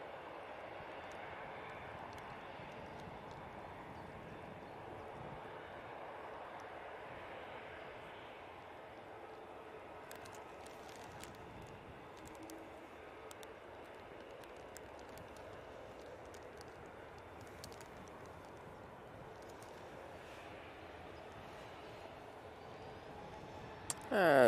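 Aircraft departing Manchester Airport on a flight to Innsbruck, a faint, distant engine rumble that holds steady for a long stretch, with a brief loud burst at the very end.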